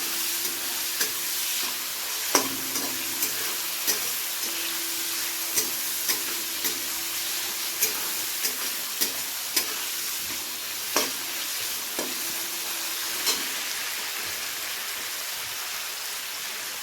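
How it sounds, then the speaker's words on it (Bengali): Tomato and other vegetables sizzle steadily in a hot pan while a spatula scrapes and taps the pan every second or so, close and moderately quiet. "সবগুলোকে একটু ভালো করে ভেজে নেব।"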